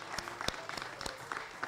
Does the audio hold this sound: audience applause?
yes